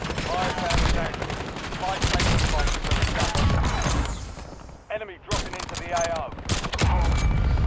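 Rapid gunfire bursts from the video game Call of Duty: Warzone, dense shots fired in quick runs, with a short lull near the end before more shooting and someone talking over the action.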